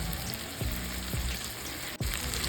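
Chicken pieces shallow-fry in a pan for malai chicken, giving a steady close sizzle with a few stirring knocks and scrapes and no talk.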